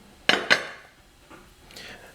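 Glass mason jars holding cheesecake set one after another into a pot for a hot water bath, with two sharp close clinks followed by a few softer knocks of glass against metal.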